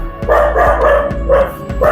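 A puppy at a house for sale in Kondavil gives a quick series of loud, close barks over a steady low hum, with no talking.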